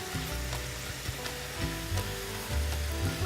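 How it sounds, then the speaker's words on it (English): Shrimp sizzles and fries in a hot pan, a steady crackling hiss with occasional scraping stir noises, fairly quiet and close with no talking. "while the shrimp is still cooking"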